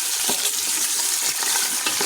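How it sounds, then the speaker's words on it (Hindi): Half a kilogram of chicken pieces fry in oil with golden onions in a pan, giving a steady, close sizzle with light stirring clinks throughout and no talk. "जिसे फ्राइंग के लिए मैंने इसमें डाल दिया है। और अब हम चिकन को अलॉन्ग विद ऑयल गोल्डन करेंगे।"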